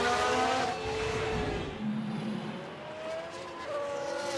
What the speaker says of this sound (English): Was that a lockup on the track?